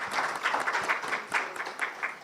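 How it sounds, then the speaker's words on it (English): An audience at a conference applauds its speakers, a short burst of many hands clapping at even moderate volume from start to finish. "A round of applause again for our speakers."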